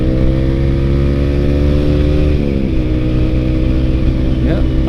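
A Yamaha R15 V3 motorcycle fitted with a Ronin Hanzo NextGen aftermarket exhaust runs loudly and close, holding a steady throaty idle drone with a slight pitch dip midway and a short rev near the end.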